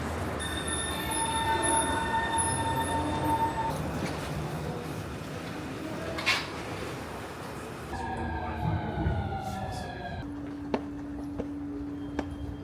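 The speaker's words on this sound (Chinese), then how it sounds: "坐2站地铁" A Copenhagen metro train runs along the track with a loud steady rumble, then its wheels squeal and whine in rising and falling tones as it brakes, ending in a sustained electric hum.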